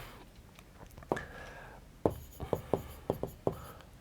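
Writing on a board during a maths class: quiet, close scratchy strokes and a series of sharp taps in an uneven rhythm, with no talk.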